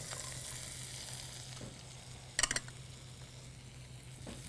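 Green onions sizzle in hot oil in a frying pan, a steady close frying hiss with a few brief stirring clatters and no talking.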